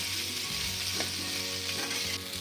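Potatoes fry lightly in hot oil already used for cauliflower, giving an even, dense sizzle that holds steady throughout with a faint stir or two and no voices.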